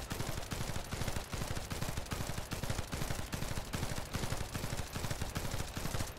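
Rapid automatic fire from a fast-firing special-rounds gun in a video game, a dense unbroken stream of loud, punchy shots that runs continuously from start to finish.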